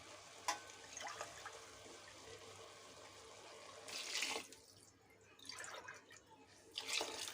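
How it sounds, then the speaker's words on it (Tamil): Water is poured into soaking rice for mushroom biryani, with quiet intermittent splashing and trickling pours in a home kitchen and no talk. "இப்போ தண்ணி சேர்த்துக்கலாம்"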